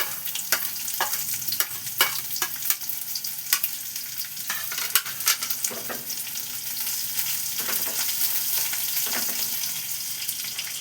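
Cumin seeds and chopped onion fry in hot oil with a continuous close sizzle, broken by sharp crackling pops and occasional stirring scrapes.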